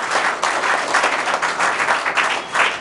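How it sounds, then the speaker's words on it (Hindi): Students in a classroom batch clap loudly together, a dense, steady patter of many hands lasting a few seconds with small swells and no voices on top. "जोरदार ताली बजाओ भाई।"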